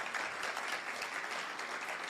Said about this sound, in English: Let's give Dr. Shonda Poe another wonderful round of applause.